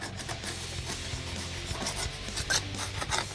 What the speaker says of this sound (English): You want to make sure you scrape any remaining gasket material off here.